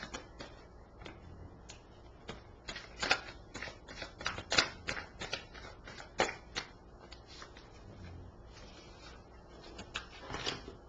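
A deck of tarot cards is shuffled and handled, with crisp riffles, slaps and soft flicks in irregular bursts, close but fairly quiet, and no talking.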